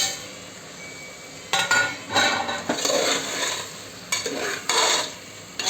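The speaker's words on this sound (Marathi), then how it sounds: "आता याला मिक्स करून घेऊया." A spoon stirs rice and paneer biryani in a cooking pot, giving several short, close scraping and clinking bursts of metal on metal, spaced irregularly with quiet gaps between them.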